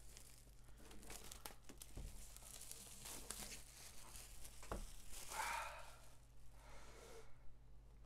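Plastic wrapping being pulled and torn off a new Apple iPad 7th generation box, with close, quiet crinkling and tearing in bursts and a few sharp snaps, no talking.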